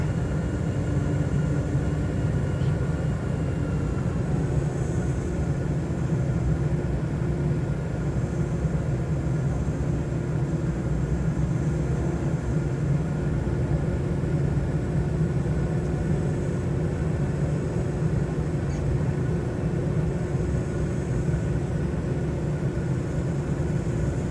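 Steady droning hum of a light aircraft engine in Microsoft Flight Simulator 2020, a continuous low rumble at constant power with no voices over it.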